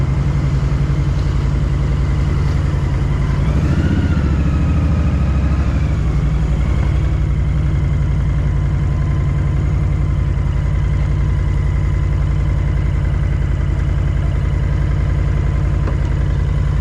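A Honda Fury 1300 motorcycle engine idles steadily and close, a continuous low throbbing rumble with a slight rise in revs early on and no talking.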